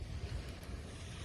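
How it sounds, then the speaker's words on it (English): Ocean waves wash onto a Florida shore in a steady, close rumbling surge mixed with wind noise on the microphone, heard alone with no talking over the short stretch. "So those waves crashing to me indicates that the breeze is picking up"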